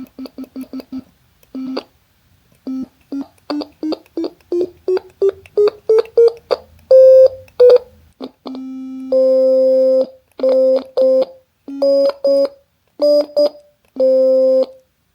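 A run of short electronic tones from an ESP32-based digital stylophone, rising in pitch step by step then settling into longer held notes, each separated by clicks and brief gaps.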